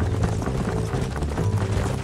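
A horse's hooves clip-clop steadily in Red Dead Redemption, a fairly quiet, rhythmic trot over a broad wash of ambient game noise.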